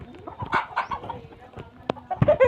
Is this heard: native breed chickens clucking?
yes